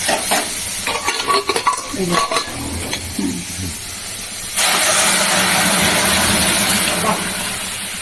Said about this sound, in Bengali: ডালটা সিদ্ধ হয়ে গেছে এবার ঢেলে দিচ্ছি